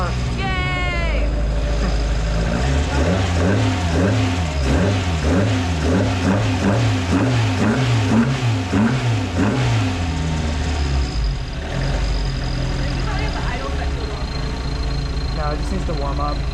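A carbureted Toyota 4A-GE engine in an AE86 idles, then revs up and down repeatedly in a wavering pattern before settling back to a steady idle.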